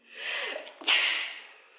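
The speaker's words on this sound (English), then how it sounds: "I need to sneeze." A single person's sneeze indoors, starting with a drawn-in breath and then a sharp, explosive burst that trails off quickly, heard close and alone.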